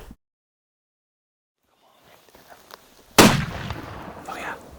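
A single muzzleloader rifle shot fired at a large bull elk in the Colorado outdoors bursts out sharply after near silence, then rolls away in a long fading echo.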